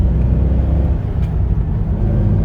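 A C5 Corvette cruises in second gear, a steady close engine drone from inside the car with no talk.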